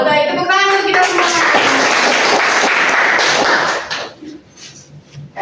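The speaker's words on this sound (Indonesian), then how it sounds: "tepuk tangan untuk kita semua" Students in a classroom break into loud, dense applause for about four seconds, the clapping fading out quickly as a voice resumes.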